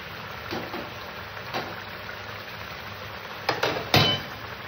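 A metal lid clinks onto a cooking pot while potatoes simmer for Bengali kasundi aloo dum, giving a few light metallic knocks, with the last two close and the loudest of them near the end, over a low steady hiss.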